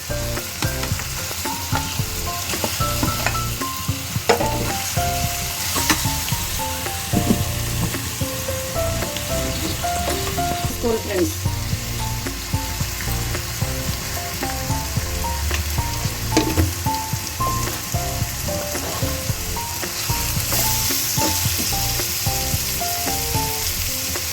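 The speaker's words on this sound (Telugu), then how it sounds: "ఇప్పుడు గుడ్లు వేసుకుని గుడ్లు ఎండు చేపలు వేసుకోవాలి" Eggs and dried fish fry in a pan, giving a steady, loud sizzle throughout with occasional crackles and the clink of stirring, and no talking.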